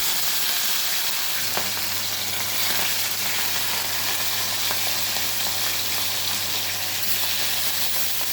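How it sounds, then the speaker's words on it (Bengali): Rohu fish pieces fry in hot oil with a steady, even sizzle throughout, punctuated by a couple of faint clicks, close and moderately loud with no talking. "তেল আমার গরম হয়ে গেছে, এবার মাছগুলো দিয়ে দেবো।"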